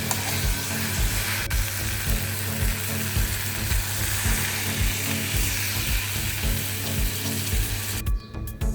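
Masala of onion and tomato simmers in a pan, giving a steady, dense sizzle and bubbling that runs throughout with no talk and ends in a short clatter.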